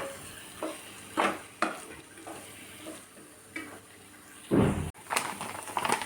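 Cheesy pasta is stirred and mixed in a pan, with a soft background sizzle under irregular scraping and clattering strokes of the spoon, one louder scrape near the end.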